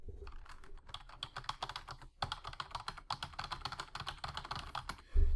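SteelSeries Apex gaming keyboard keys typed rapidly in a steady, close clatter of individual keystrokes, with a brief pause midway and a heavier thump at the end, no voices.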